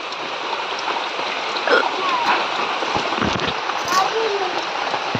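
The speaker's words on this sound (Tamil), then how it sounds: "மழை அதிகமாகுது" Heavy rain pours steadily and loudly as a dense, continuous hiss with faint splashes. It carries on without a break and no one speaks over it.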